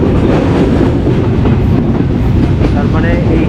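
A train runs steadily along a rail line near the Hili border, a loud, close, continuous rumble of wheels on track with rhythmic clatter and no pauses.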